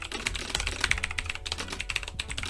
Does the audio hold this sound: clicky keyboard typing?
yes